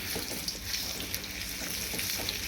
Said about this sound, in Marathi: तुपामध्ये ना खजूर सोडायची. आता ही छान अशी परतून घ्यायची तुपामध्ये